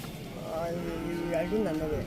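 A Hallikar calf gives a short, drawn-out moo close by at a fair, with people talking in the background.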